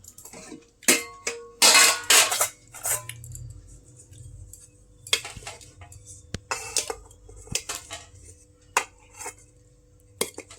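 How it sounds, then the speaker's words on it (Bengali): Steel dishes and a rice plate clink and clatter as they are set down at a home lunch table, a series of sharp, irregular metallic knocks with quiet gaps between them and no voices. "তাহলে ভাতের থালা ছাড়বো এখন।"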